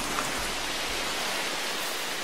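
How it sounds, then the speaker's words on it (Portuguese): Rain falls steadily in the Amazon rainforest, an even, dense hiss of drops with no breaks, close and enveloping. "E retorna como chuva."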